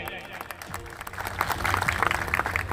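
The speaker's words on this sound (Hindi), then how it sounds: "एक बार जोरदार ताली बजाएं" A crowd at a political rally in Sirsa, India breaks into applause that swells and grows louder, with a voice briefly audible near the start.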